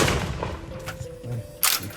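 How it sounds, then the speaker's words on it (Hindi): Gunfire exchanged with police commandos during ongoing clashes in Manipur, heard as distant booming shots and rumbling reports spread through the stretch, with a faint voice underneath. "ये भी इधर से फायर हुआ, अभी उधर से फायर हुआ"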